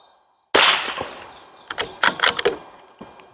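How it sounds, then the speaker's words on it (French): A rifle fires one sharp, loud shot during an accuracy test after chassis bedding, followed by a quick series of crisp mechanical clicks and knocks close by. "les 4 prochains tirs sont dans le même trou"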